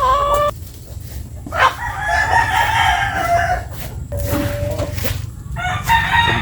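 Roosters crow loudly in repeated calls, overlapping with hens clucking nearby against a low rumbling background.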